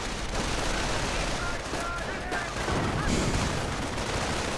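Rifle and machine gun fire in a WWII strategy game, continuous crackling distant shots and rattling bursts forming a busy battle backdrop, with talk running over the top.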